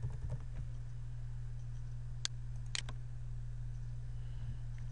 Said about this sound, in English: I'll type